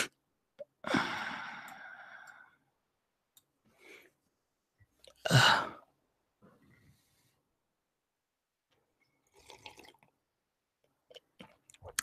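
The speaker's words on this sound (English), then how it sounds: "I was sneezing." A person sneezes twice, first in a breathy burst that trails off over a second, then later in a short, loud, sharp one. Only faint small noises fall in between.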